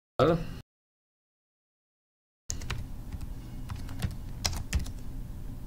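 Computer keyboard typing, a brief burst of keys, then a pause before a longer run of quick, irregular clicks close by at moderate loudness.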